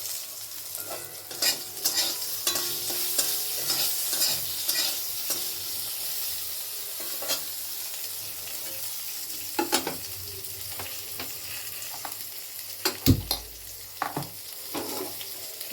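Sliced bitter gourd fries in a pan with radhuni seeds, giving a steady soft sizzle broken by intermittent scraping stirs and one sharp clatter near the end, no one speaking.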